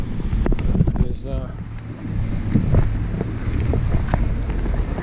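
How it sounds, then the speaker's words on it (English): A small 2 hp Spirit outboard motor pushing an 18-foot Clipper canoe on open water, a steady low drone running throughout under gusty wind buffeting on the microphone. "tell you what I really like about this little tiny motor"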